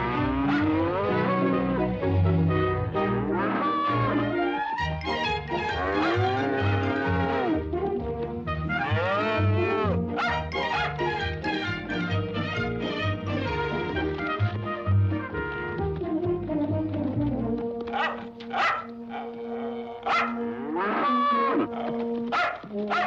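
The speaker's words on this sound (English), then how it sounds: "he'd watched these same cows brought in from pasture by old Butch and the man." Herd of cattle being brought in from pasture, loud drawn-out moos overlapping again and again, some near and some farther off, with a dog yapping briefly toward the end.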